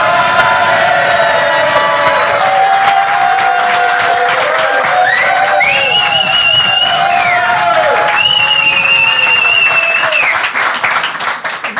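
An outdoor crowd at Fun Burger in Obernai cheers, whoops and applauds loudly and steadily after a Toulouse–Strasbourg football match, with shouts and whistles rising over dense clapping throughout.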